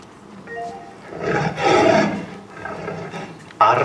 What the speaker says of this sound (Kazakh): Арыстан.